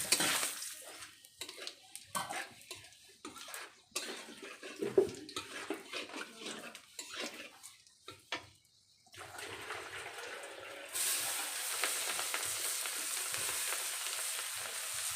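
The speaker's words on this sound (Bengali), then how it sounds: "তেলগুলো প্রচুর পরিমাণে গরম হয়ে গেছে। এখন দিয়ে দিচ্ছি পাঁচফোড়ন।" Panch phoron and two bay leaves hit very hot oil for a fish curry, giving a loud hiss and sizzle with stirring clatter, then a sustained broader fry noise in the latter half.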